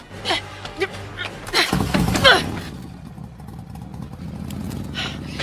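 Motorcycle engine sound effect in a Cebuano radio drama, a brief revving burst mixed with shouting voices and clatter, fading into a low rumble.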